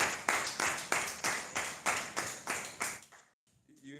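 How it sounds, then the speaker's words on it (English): A group claps in steady, evenly spaced bursts, about ten loud claps in rhythm, then stops abruptly with a brief quiet murmur after. "we are putting our hands together for you. We are clapping"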